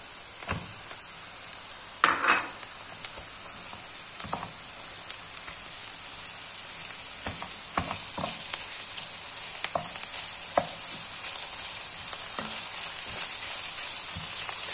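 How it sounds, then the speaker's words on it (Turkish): Onions and minced meat fry in a pan with a steady, bright sizzle throughout, broken by occasional scraping stirs and a few sharper pops, with no talking. "gördüğünüz gibi soğanlarımız kavruluyor. Kıymamızı ekliyoruz arkadaşlar."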